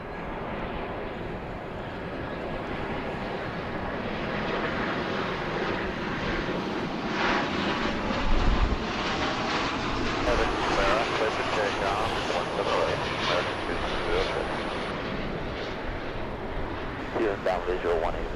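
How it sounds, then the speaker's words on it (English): An American Airlines Boeing 737-800 jet at DFW airport gives a steady, loud roar with engine whine throughout, swelling slightly in the middle as the aircraft passes nearby, with a voice talking over it. "This is going to be American Flight 2268, 737-800."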